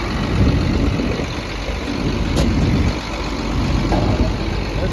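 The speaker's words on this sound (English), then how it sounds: "There's that Cummins diesel. Sounds to be running real good." A 6.7 liter Cummins diesel engine idles on a 2016 XCMG 210 hydraulic excavator with a steady, deep, rumbling chug close up and a mostly constant loudness, with no voices.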